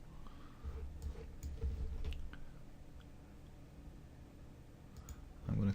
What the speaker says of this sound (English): clicking on the canvas to see the result